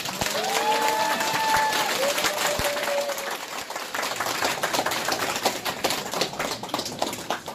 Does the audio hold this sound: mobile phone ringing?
no